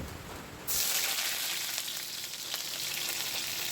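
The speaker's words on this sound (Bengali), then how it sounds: "ছোট মাছটা আমি হলুদের গুঁড়া মরিচের গুঁড়া লবণ পেঁয়াজ মরিচ সব কিছু দিয়ে তেল দিয়ে মাখিয়ে চুলায় বসিয়ে দিয়েছি" Small fish coated in turmeric, chili powder, salt, onion and chili sizzles loudly in hot oil on a stove, the frying bursting up suddenly after a quieter start and then hissing continuously.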